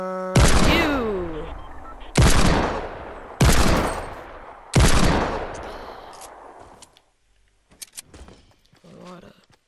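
Gunfire in the Fortnite video game, four loud, evenly spaced heavy shots about a second apart, each ringing out and decaying, followed by quieter scattered clicks and movement.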